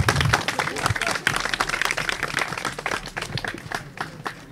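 School audience at a primary school stage event in Maroua clapping for a pupil's project, sharp uneven claps from a modest group with some voices murmuring underneath.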